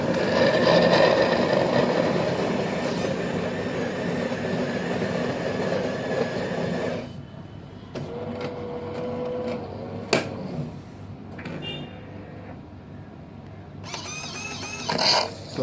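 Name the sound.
Kalerm Quarza coffee machine dispensing hot milk for latte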